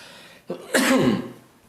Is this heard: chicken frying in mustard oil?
no